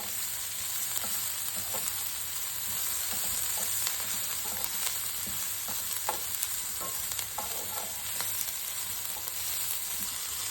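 Whole spices and coriander leaves sautéing in a pan for Malvani masala, with a continuous soft sizzle and frying crackle and occasional stirring scrapes, steady and close throughout.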